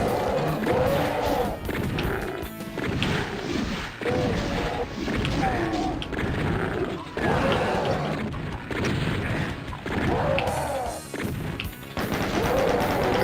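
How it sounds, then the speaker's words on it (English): A double-barrel shotgun firing in Doom on PC (1993), giving a series of loud, punchy blasts at a steady rhythm, each followed by a short mechanical reload, with music and game effects underneath. "the double barrel shotgun in Doom is basically a super weapon"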